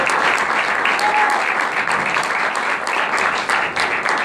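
Loud, close applause from a festival crowd at the presentation of the IV Córdoba horror and fantasy film festival, honoring the organizers with brisk, continuous clapping that stays strong throughout.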